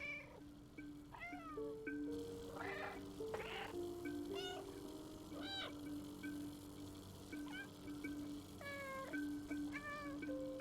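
Repeated cat meows in a video game (Stray), some drawn out and plaintive, sound over a low background hum and faint ambient noise.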